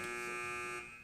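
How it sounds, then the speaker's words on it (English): A quiz answer buzzer at a high school academic match gives one loud, steady, harsh electronic tone lasting about a second before it fades. No one speaks over it. "Teams wait for the buzzer if you'd like to answer."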